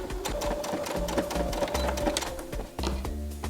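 Sewing machine running steadily while stitching a collar onto an upcycled sweatshirt, a continuous close mechanical whir with rapid needle ticking and brief changes in pace.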